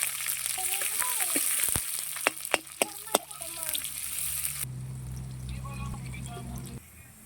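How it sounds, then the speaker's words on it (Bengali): Chopped onion with bay leaf and cumin sizzles steadily in hot oil in a home kitchen, a bright continuous hiss running under a voice. "পেঁয়াজ ভাজা হয়ে গেছে,"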